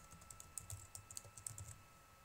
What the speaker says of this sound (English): We're typing the scenario number 1 once more